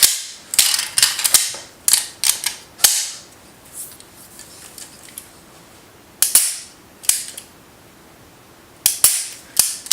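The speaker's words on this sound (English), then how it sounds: "I love how easy it is to remove the magazine in this and the Tomfolio." Magazine handled and removed from a pistol fitted with a brass grip and base pad, sharp close metallic clicks and snaps in scattered bursts over a quiet background.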